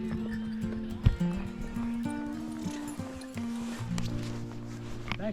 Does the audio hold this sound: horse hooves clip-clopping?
yes